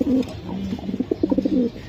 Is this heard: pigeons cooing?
yes